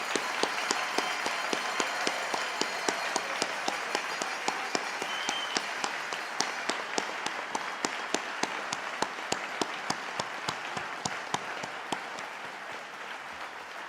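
Graduates at a university convocation for the management and science faculties receive a long, steady round of applause from the audience, dense and even, with sharp nearby hand claps standing out above the crowd.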